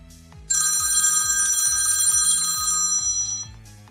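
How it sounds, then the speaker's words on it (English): A telephone bell rings loudly and steadily for about three seconds after a short quiet lead-in, a bright continuous trill, with a faint low rhythmic pulse underneath and no talk. "As the phone rings, I'll make sure that it's not an emergency call."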